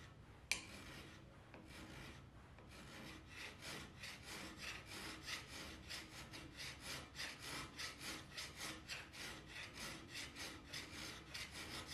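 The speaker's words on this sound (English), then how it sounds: "I was draw filing this to flatten this out" A steel knife blank being draw filed by hand, shaped earlier with an angle grinder, gives a steady series of rhythmic rasping strokes, close and even, building to a regular back-and-forth cadence with no talking.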